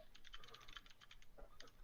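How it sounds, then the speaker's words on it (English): Rapid typing on a computer keyboard, a quick close run of light key clicks with a few brief pauses, quiet and alone without talk. "I hear a lot of typing"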